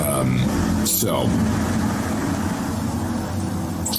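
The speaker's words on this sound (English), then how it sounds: "I sure do love loud trucks." A loud truck rumbles past nearby with a heavy low engine roar that fills the whole moment, while a person speaks over it.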